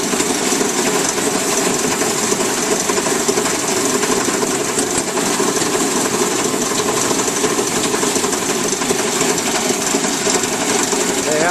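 A Goldfield Goldtron gold table runs with a loud, steady mechanical rattle and hum, fine material dropping onto the table while coarse material moves off the screen toward a sluice box. The noise is constant and close, with no break.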